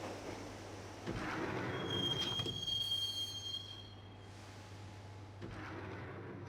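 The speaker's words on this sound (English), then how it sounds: "the train doors had already shut behind me, and I was in for the ride" Subway train ride in the Max Payne video game heading for a station: a steady rumbling carriage drone with surges of wheel noise, a thin high squeal in the middle, and a quieter lull before the rumble returns.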